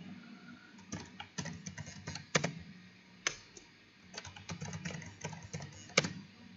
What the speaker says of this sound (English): Here I will type it here.